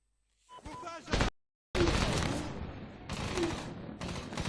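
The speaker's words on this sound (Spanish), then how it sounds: "¡Cuidado con los tiros de arriba!" Bursts of rapid gunfire from Medal of Honor, sustained and loud, with brief gaps and a voice heard at the start.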